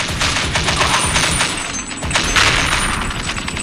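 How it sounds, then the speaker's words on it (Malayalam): Rapid bursts of gunfire crackle repeatedly in a 2D zombie shooting game, dense and continuous like automatic weapons, with no talking. "നമുക്ക് സോംബികളെ ഇങ്ങനെ വെടി വെച്ചിടാം"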